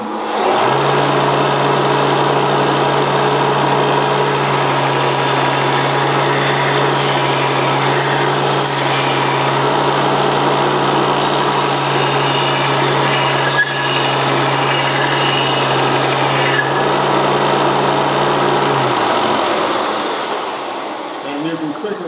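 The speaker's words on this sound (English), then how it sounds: "turn on your belt sander" A belt sander shaping a wooden toy part runs steadily with a low constant hum and a gritty whir for about nineteen seconds, then switches off and falls quiet.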